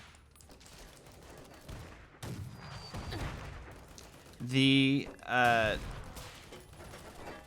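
Fireworks cannon fired in the Fallout: The Frontier game, two loud booming blasts with whistling, crackling tails, following a stretch of quieter gunfire and clatter, with a voice talking faintly.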